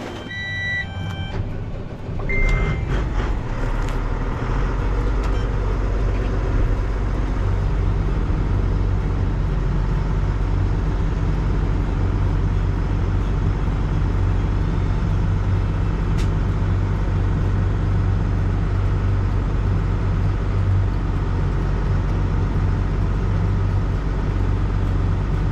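A farm vehicle rumbles steadily as it drives forward, a loud, continuous low engine drone lasting throughout, with a few brief beeps and clatters at the start.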